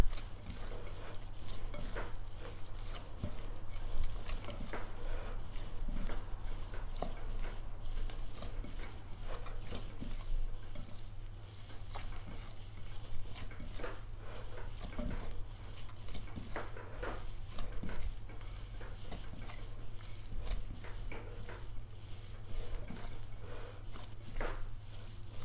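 Dough for meat rolls, made like pie dough, is kneaded by hand in a bowl, giving a long, steady stretch of soft, muffled squishing and pressing over a constant low background hum.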